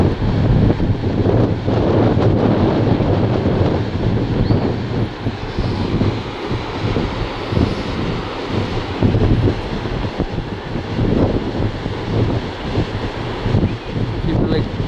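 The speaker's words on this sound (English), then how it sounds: "Them waves crashing in the rocks over there." Strong wind gusts across the microphone while waves crash on rocks below a beach at Lusty Glaze, Newquay, a continuous roaring surf heard from a clifftop distance on a windy day.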